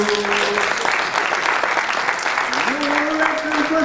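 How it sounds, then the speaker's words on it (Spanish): A crowd at an improvisation show claps continuously and fairly loudly throughout, with a voice singing or calling over the applause. "aplauso pros meus canarios"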